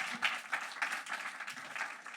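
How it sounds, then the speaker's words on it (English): Live theater audience in a Cleveland basement venue applauding, a steady wash of many hands clapping close by for a couple of seconds, with no talk over it. "Give yourselves a round of applause for making it out to the show tonight."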